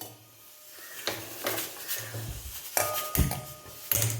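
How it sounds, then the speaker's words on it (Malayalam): A spoon stirs lentils, rice and urad dal in a metal pan for a sambar powder, making irregular scraping and clinking against the pan, close and moderately loud, with no talking. "അതിട്ട് ഇളക്കി കൊടുക്കാം"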